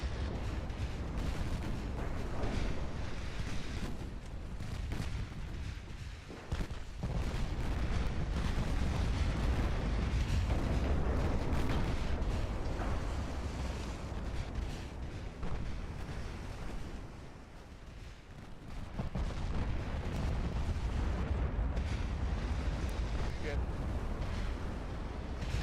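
Naval gunfire in the game Ultimate Admiral Dreadnoughts, a sustained loud rumble of heavy booms and roaring blasts with a brief lull mid-way, like dense artillery exchange at sea.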